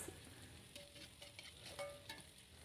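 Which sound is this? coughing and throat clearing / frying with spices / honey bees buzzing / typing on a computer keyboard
frying with spices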